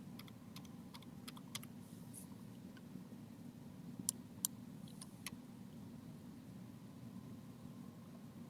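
Faint clicks from computer arrow keys being pressed, scattered and irregular over a steady low hum, no voices.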